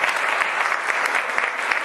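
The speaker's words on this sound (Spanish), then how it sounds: "Por favor, también un fuerte aplauso para ellos." Steady, dense audience applause at a school's closing event, many hands clapping evenly and close for the whole stretch with no voices standing out.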